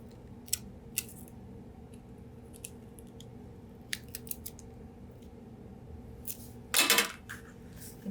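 A few sharp, quiet snips from scissors cutting pom-pom material, scattered over low room hum, then a louder burst of cutting near the end.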